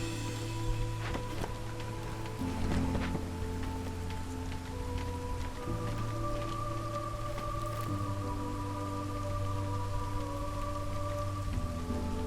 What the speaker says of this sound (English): Now, drizzle comes after the storm